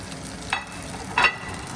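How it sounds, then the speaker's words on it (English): Milk-soaked croutons fry in olive oil in a pan with a soft, steady sizzle, broken by two brief louder scraping stirs. "fry in this little bit of oil until all the milk is dry"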